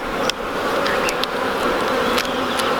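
Honey bees buzz densely around an opened hive during an outdoor inspection, a steady close swarm hum with occasional louder passes as individual bees fly near.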